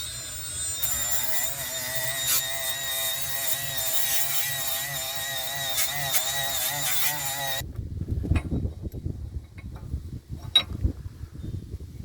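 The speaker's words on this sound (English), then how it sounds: "Here we're going to use a die grinder to remove the debris so I have a good clean face for the rotor and the adapter." A die grinder whirs loudly against a BMW E46 wheel hub face, cleaning debris off before a wheel spacer and rotor go on, a sustained high buzzing with wavering pitch that stops abruptly, leaving scattered clanks and scraping.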